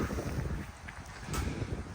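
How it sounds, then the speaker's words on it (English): Gusty wind by a boat lift on the water buffets the microphone with low, uneven rumbling bursts and a faint airy hiss, fairly quiet overall and with no voices. "It is really windy today and downright a little chilly."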